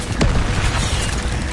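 Incendio fire spell cast in Hogwarts Legacy on PS5: a single sharp, booming burst near the start that settles into a rumbling, crackling whoosh of flame for the rest of the moment.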